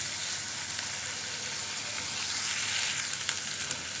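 Carrots frying over high heat in a pan for a homemade chicken sizzling dish, a dense, constant sizzle with a few light stirring clicks toward the end and no voices.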